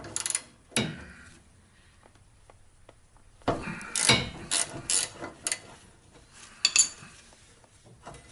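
A hand ratchet clicks in short bursts while loosening a sway bar end link on a Subaru BRZ, with crisp metallic ratcheting spread over several seconds and quiet pauses between strokes.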